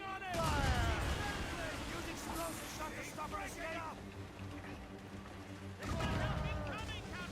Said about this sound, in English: Give them the broadsides.